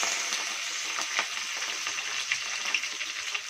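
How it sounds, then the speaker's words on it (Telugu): Onions, green chillies and fenugreek seeds frying in a hot pan for a Godavari-style fish curry, a steady close sizzle with faint scattered pops and occasional stirring, no voices. "ఉల్లిపాయలు వేసుకుని బాగా వేయించుకోవాలి"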